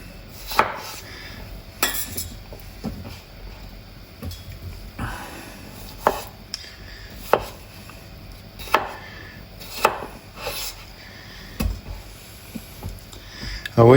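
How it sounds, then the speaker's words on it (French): Potatoes, about 500 grams, are sliced with a knife on a cutting board, making a series of crisp, irregular knocks close by, roughly one every second, with faint background noise. "comme ceci, on coupe les pommes de terre"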